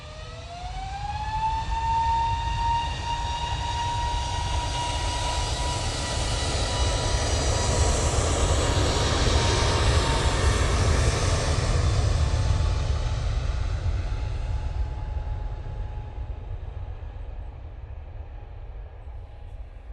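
An Airbus A320neo takes off from Manchester Airport bound for Malta, its jet engines a loud sustained roar with a rising whine that swells and then slowly fades into the distance.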